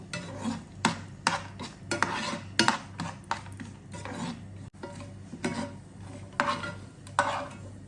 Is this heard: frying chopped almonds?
yes